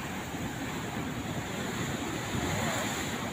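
Steady surf washes onto a beach in the evening, a broad continuous roar of breaking waves with some wind noise, close and even throughout, with no voices.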